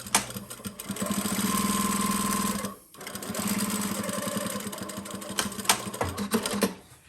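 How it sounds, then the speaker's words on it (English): A sewing machine stitching a topstitch line on women's shorts runs in two close, steady bursts of rapid rhythmic clatter, briefly pausing between them, then slowing to a few isolated thumps, with no one talking. "I'm gonna go ahead and start stitching a top stitch line"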